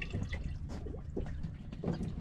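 Seawater dripping and trickling off a freshly caught flounder, irregular splashy drips close by, with no voices.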